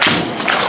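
A gundu firecracker goes off during a Vishu morning family celebration, a single loud, close, broadband bang with a thudding body that fills the whole moment.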